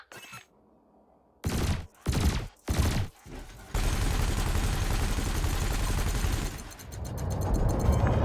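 In the Elite Dangerous video game, spaceship weapons fire at canisters: three loud separate blasts, then a sustained roaring barrage that runs continuously to the end.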